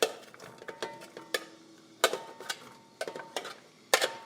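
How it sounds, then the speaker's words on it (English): Chopped onions going into hot olive oil in a pan for spinach rice, heard as a series of sharp clinks and taps with light sizzling, spaced irregularly and fairly quiet, no speech. "And now I am going to add the onions."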